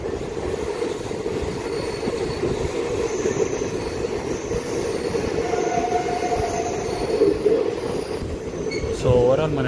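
A DEMU local train leaving Malkajgiri railway station rumbles steadily from onboard, with a continuous roar of wheels on rails, a faint squeal partway through, and no talk over it.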